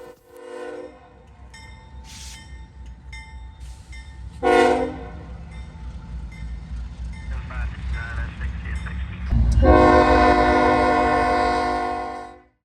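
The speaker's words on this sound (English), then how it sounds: "A CSX local with a single AC-44CW heads south across NS Tower at Lima" CSX local led by a single AC-44CW locomotive heads south across the diamond at NS Tower in Lima, Ohio, horn blasting in several loud bursts over a rising diesel rumble that swells near the end, then fades.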